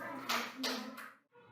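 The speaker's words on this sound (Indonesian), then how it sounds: "Beri tepuk tangan buat Audi." Children clapping for a classmate in an Indonesian classroom, two short bursts of scattered applause close by, fading into a brief pause with a low murmur of voices.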